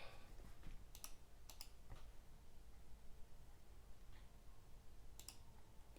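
Faint, sparse clicks of a computer keyboard as a signature is typed, a few quick keystroke clusters spread over several seconds against a soft background hiss.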